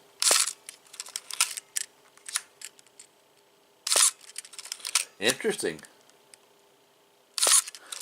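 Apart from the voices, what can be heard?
electronic camera shutter firing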